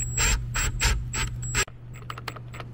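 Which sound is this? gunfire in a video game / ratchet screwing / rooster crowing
ratchet screwing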